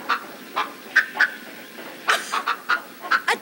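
A chicken's clucking plays over a radio in a cartoon car, a string of short, bright clucks in uneven bursts, some doubled, fairly close and clear without talk over them.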